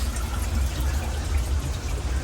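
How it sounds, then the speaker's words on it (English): Hot water runs continuously to flush a toilet at a hot springs in southeast Alaska, a steady close rushing flow with no breaks or voices. "What they do is they just run hot water to flush this thing continuously."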